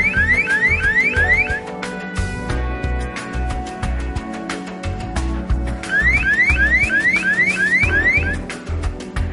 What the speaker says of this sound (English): A light will start to flash and an acoustic alarm will go off as well.